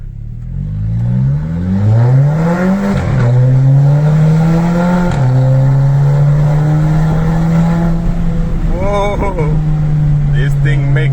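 A car fitted with a newly changed diverter valve is driven on the road, its engine rising and falling in loud, close revs through several gear changes, with a brief fluttering burst near the end.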